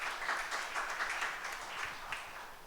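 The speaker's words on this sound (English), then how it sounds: "we could have one round of applause" A round of audience applause at an International Women's Day session, a dense even clatter of many hands at moderate distance, continuous throughout and tapering slightly at the close.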